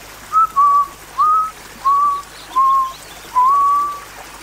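A person whistles the national anthem as a short melodic phrase of six clear, sustained notes, fairly close and alone, with brief gaps between notes.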